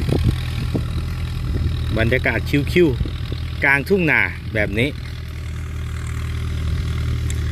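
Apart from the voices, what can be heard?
Ford 6610 single-axle tractor engine idling in rice field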